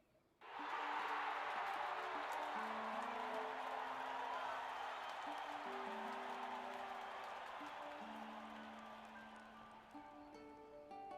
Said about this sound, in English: Just listen to that. Bet I can make them cheer louder